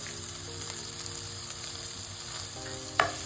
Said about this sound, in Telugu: టొమాటోస్ కూడా మంచిగా ఆయిల్లో ఫ్రై అయిపోయాయండి